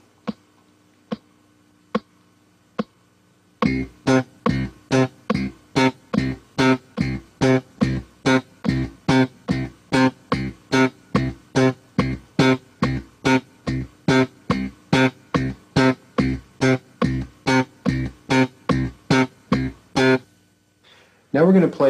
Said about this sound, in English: you want to lift your fingers to deaden the note right away to give you a very short staccato